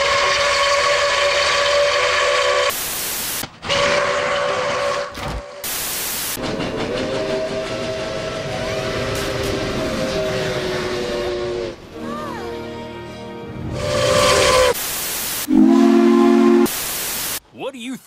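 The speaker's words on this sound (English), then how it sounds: "What do you think of my new steam whistle?" Steam whistle of Milwaukee Road 261, a steam locomotive, sounding loud chime-like blasts of several held tones, broken by sharp cuts and shifting pitches across the clip.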